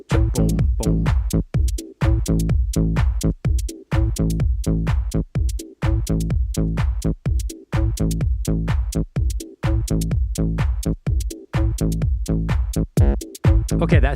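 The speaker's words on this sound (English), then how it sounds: "I want to hear this bass line come in one more time" A deep synth bass line pulses in a repeating rhythmic pattern, punchy, loud notes broken by short gaps, looping steadily with no voices.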